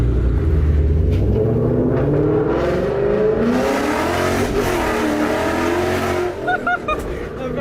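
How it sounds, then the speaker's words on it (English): A Ford Mustang with a new exhaust pulls hard in first gear out of a parking lot, a loud, close, rising engine roar and rumble that sweeps upward before easing off near the end. "That's how Mustang should sound."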